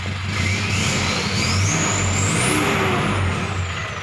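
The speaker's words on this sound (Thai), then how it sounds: "เร่งเครื่องให้ดูนะครับ" Isuzu D-Max All New X-Series 2.5 pickup from 2012, its engine revved at home with a low steady drone that climbs and rises in pitch. It sounds loud and close, and no one speaks over it.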